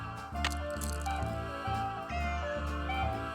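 A cat in the Nancy Drew: Secret of the Old Clock video game gives a single meow over looping game music with a steady bass pulse.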